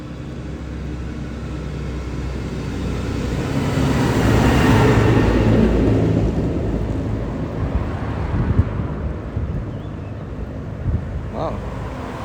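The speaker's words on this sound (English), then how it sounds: "Here comes that muckle tractor again." A large tractor rumbles in outdoors in a nature area, its low engine roar swelling as it nears and passing close, over a broad wash of wind-like noise.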